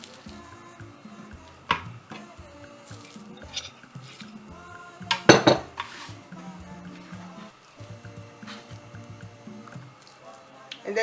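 A spatula presses and scrapes flapjack mixture flat in a baking tray, giving soft squishing taps and metal knocks, with a louder scraping burst partway through.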